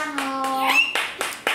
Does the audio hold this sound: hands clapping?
yes